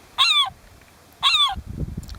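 Two loud, clear seagull calls played from a Birdsong Identiflyer device, each a short harsh yelping cry about a second apart, with faint low background noise after the second.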